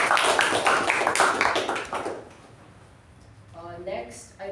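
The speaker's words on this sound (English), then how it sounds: "A huge round of applause to Toastmaster" Brief applause at a Toastmasters meeting, a burst of scattered claps for about two seconds that fades into quiet room tone, followed by someone beginning to speak.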